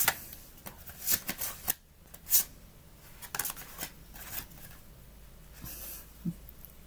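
Tarot cards are shuffled and drawn by hand, with a run of close, crisp riffling flutters and soft slaps, irregular and fairly quiet, separated by short pauses.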